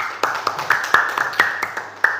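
A classroom group claps hands together in an Islamic religious education lesson, a quick run of uneven, close claps over about two seconds with faint voices underneath.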